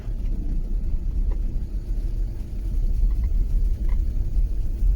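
Inside a moving car on a road, a loud, steady low engine and tyre rumble continues throughout, with a few faint light knocks above it.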